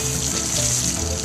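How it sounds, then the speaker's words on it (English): Steady rushing of running water as cartoon pigs wash with clean water after getting out of a pool, a continuous hiss that holds evenly for a short moment. "Daddy Pig quickly lifts them out of the pool and helps them wash with clean water."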